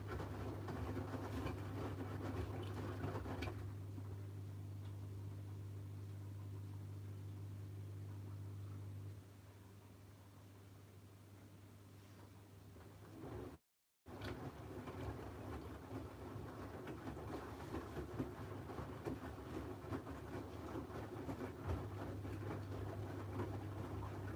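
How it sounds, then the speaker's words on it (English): An LG direct drive washing machine runs a rinse with laundry and extra water, a low steady hum and sloshing churn that drops in level partway, briefly cuts out, then returns with rougher tumbling. "laundry sounds different in the machine when it's doing the rinses with this, and it's got a bit more water"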